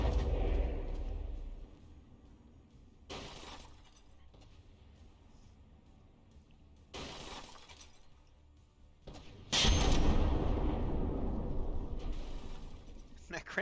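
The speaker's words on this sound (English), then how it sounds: "That cram gun is still firing." Cram gun firing in the From The Depths tank battle, heavy booming shots with shattering crashes arriving in bursts, loud and near, over continuous rumbling game noise.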